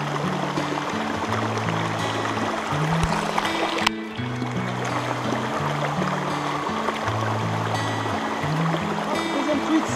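A mountain river flows at a wild trout fishing spot, a close, continuous rush of water that dips briefly near the middle. Low tonal notes run underneath.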